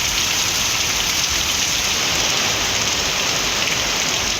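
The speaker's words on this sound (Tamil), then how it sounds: "அரியலூர் மாவட்டம் ஜெயங்கொண்டம் மற்றும் அதை சுற்றியுள்ள இடங்களில் கனமழை கொட்டி தீர்த்தது." Heavy rain pours steadily over Jayankondam in Ariyalur district, Tamil Nadu, a loud, dense, unbroken hiss of downpour with no voices and no pauses.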